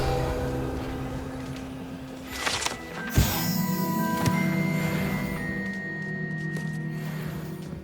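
A Revelio spell cast in Hogwarts Legacy gives a sharp magical whoosh and burst followed by shimmering ringing tones that hang and fade over ambient game music.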